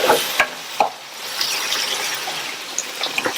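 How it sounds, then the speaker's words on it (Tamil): Masala sautéing in a pan for a Tamil-style cauliflower curry, a steady soft sizzle with scattered scraping stir clicks and faint metallic taps throughout. "பச்சை வாசனை போக ஒரு 2 நிமிஷத்துக்கு வதங்கட்டும்."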